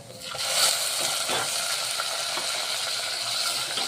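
Raw green chili and coriander paste sizzling steadily in a pan with onion masala, a continuous close frying hiss with faint stirring scrapes throughout.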